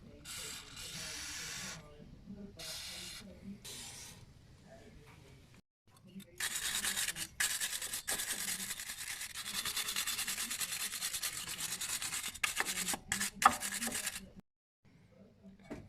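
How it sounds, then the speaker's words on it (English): Rapid scratchy wire brushing on a threaded steel bolt and nut from a 2001 Isuzu 2.8 diesel front suspension, in several bursts separated by brief pauses, loud and close, with no voices. "Okay, so I wire brush this as you saw, and I wire brush the bottom nut."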